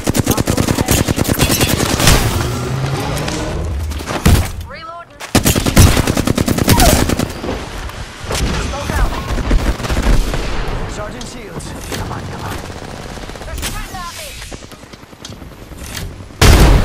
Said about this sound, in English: They're shooting at me! We're shooting!